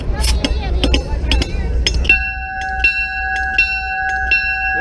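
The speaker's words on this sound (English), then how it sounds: "That's a pneumatic operated bell." An old pneumatic-operated cast bronze Santa Fe locomotive bell rings at a railroad days event. Clanks and handling noise come first, then a sustained bright metallic ring with repeated strikes, loud and close amid crowd noise.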